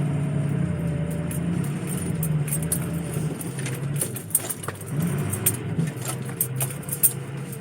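A truck jolts over big bumps in a field, with rattles and clunks at irregular intervals over a steady low engine hum, loose items jangling inside the cab.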